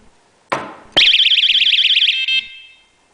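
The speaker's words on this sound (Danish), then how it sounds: "Og der kommer en forfærdelig alarm" After a sharp knock on a table, a vibration-triggered alarm blares: a loud, harsh warbling siren that pulses rapidly for over a second, then cuts off as a button is pressed.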